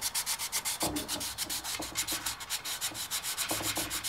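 Sandpaper is worked by hand inside a hole in a Valmet 602 tractor brake part, a close rhythmic scratching with quick regular strokes and a few heavier scrapes.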